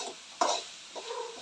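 A spoon stirs vegetables in hot oil in a pan, making a sharp scrape followed by soft sizzling and quieter stirring, close and without speech.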